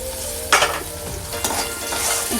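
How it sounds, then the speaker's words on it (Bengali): Spice mix with salt and turmeric frying in a pan for aloo paratha filling, a steady close sizzle broken by a few scraping stir strokes, with no talking. "এবার এটাকে খুব ভালোভাবে ভেজে নেব।"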